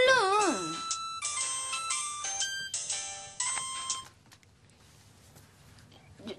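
A mobile phone plays a loud, close melodic ringtone in repeating phrases for about four seconds, then cuts off, leaving quiet room sound.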